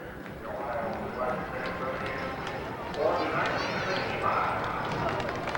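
Horse hooves clip-clop steadily on a road at moderate distance during a commemoration parade, mixed with crowd noise and people talking in the background.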